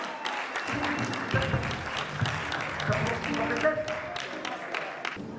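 A church congregation at an evangelical gathering of French-speaking ministers bursts into sustained clapping and cheering, with voices calling out over the crowd's applause throughout.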